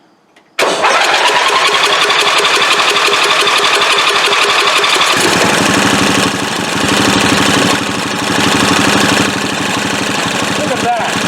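An old Craftsman lawnmower engine, unused for eight years, cranks and catches abruptly, then runs loud and close, its rapid chugging steadying into a rough, continuous idle with a voice speaking over it.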